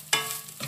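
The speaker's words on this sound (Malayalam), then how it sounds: "ഇനി നമുക്കിതൊന്ന് മീഡിയം ഫ്ലെയിമിലിട്ടൊന്ന് നന്നായിട്ടൊന്ന് വറുത്തെടുക്കാം" A spatula stirs ingredients roasting in a pan over a medium flame while erissery is being made, giving two brief scraping strokes with a faint sizzle between them.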